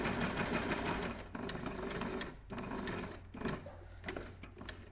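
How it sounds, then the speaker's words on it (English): A sewing machine stitching a V-neck strap held with a pin, its needle running in a fast, steady mechanical chatter that pauses briefly and then resumes, loud and close with no voices. "I'm going to keep sewing, and I'm going to sew as far as I can up to the pin before taking it out"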